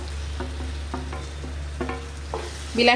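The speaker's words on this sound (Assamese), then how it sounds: "আৰু এইখিনি এতিয়া বিলাহীখিনিও মই ভালকৈ ভাজ খাবলৈ দিম" Finely chopped tomatoes fry in a pan with roasted spices, a low steady sizzle broken by repeated scraping strokes of a spoon stirring at an even rhythm, with a louder clatter at the end and no speech.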